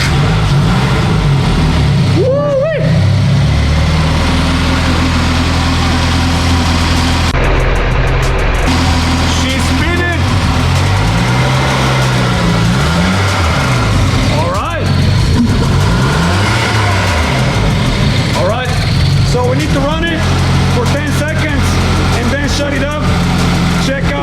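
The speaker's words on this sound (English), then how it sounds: "let's start up the car finally for the first time with the supercharger" An HKS-supercharged Toyota GT86 on a dyno cranks and fires up, then revs repeatedly, the engine note rising and falling up close while people talk over it.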